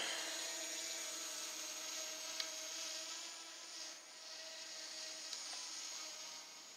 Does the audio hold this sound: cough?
no